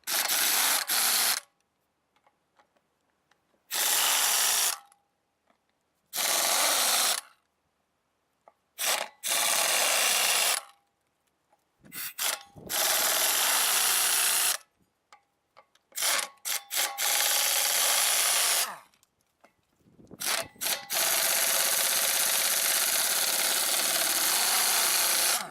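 Car wheel lug nuts being broken loose during a tire change, heard as bursts of loud harsh grinding and rasping separated by silent pauses, with irregular rhythm and no talking.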